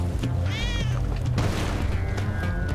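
A cat meows in Spelunky 2, a short rising electronic mew that stands out over a busy, continuous game soundtrack and effects.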